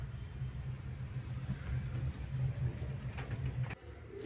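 Road traffic in Kalyani Nagar, Pune, during rain, a steady low rumble of idling and slowly moving vehicles heard at a modest level, with no talk.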